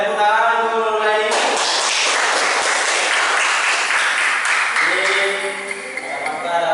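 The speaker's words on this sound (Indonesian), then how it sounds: "Boleh tepuk tangan untuk mulai." A classroom of students applauds at a school lesson, a dense burst of clapping starting after about a second and sustained for several seconds, with a voice speaking before and as it fades.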